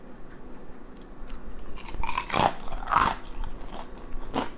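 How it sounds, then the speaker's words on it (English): Crispy air-fried lechon kawali pork skin gets bitten close to a lapel mic, giving two or three loud, sharp crunches with crackling chewing between them and no talking. "I put on my lapel mic so you could hear the crunch, because that's what you want from a good Lechon Kawali."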